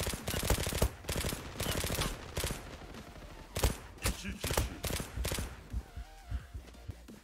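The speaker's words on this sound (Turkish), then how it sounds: "Yerlere bomba atıyorlar ve ben ölüyorum." Rapid bursts of automatic gunfire and blasts from a Zula online shooter match, loud and close in repeated volleys with brief gaps, a few quieter pops near the end.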